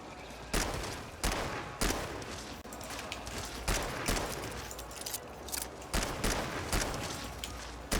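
Revolver shots ring out in the game GTFO as a series of sharp, loud cracks spaced roughly a second apart, with faint mechanical clicks and rattles between them.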